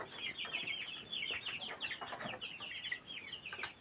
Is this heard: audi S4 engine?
no